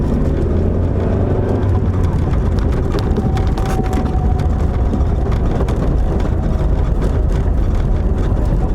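A salvage-yard 1989 Dodge Daytona ES, a front-wheel-drive car, drives on a cold night with a loud, steady engine drone and road rumble heard from inside, the pitch and load shifting slightly as the transmission changes gears.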